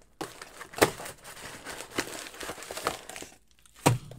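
Crinkling plastic packaging and packing peanuts being rustled while a package is unboxed, close and fairly quiet, with irregular crackly bursts and a few sharper crunches.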